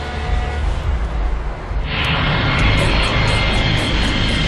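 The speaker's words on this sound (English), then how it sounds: "It starts with a supersonic flight on Concorde to New York." A Concorde supersonic airliner in flight gives a steady, broad engine roar that swells partway through and becomes a brighter, louder rushing hiss, with no voices.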